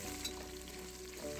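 Garlic, mustard seeds, cumin and dried chilies tempering in hot oil for sambar, a soft steady sizzle with faint crackling, close but quiet and without voices.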